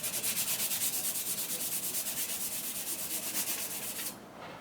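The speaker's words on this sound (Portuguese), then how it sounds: "agora vamos lixar pro lado de fora" Sandpaper rubbed by hand over painted wood for decoupage, rapid even back-and-forth strokes, about five per second, close and continuous before stopping abruptly near the end.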